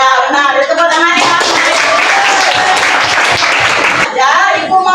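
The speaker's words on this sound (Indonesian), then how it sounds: "Tepuk tangan ya." A school class claps hands together, a burst of mixed, uneven applause lasting a few seconds, framed by a teacher's voice speaking just before and after.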